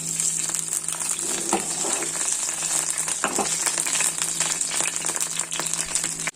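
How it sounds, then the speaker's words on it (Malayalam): Mustard seeds crackle and splutter in hot oil in a pan, a dense continuous sizzle with rapid scattered pops throughout, close and steady, with no talk. "ഞാൻ ജസ്റ്റ് കടുക് പൊട്ടിച്ചെടുക്കും"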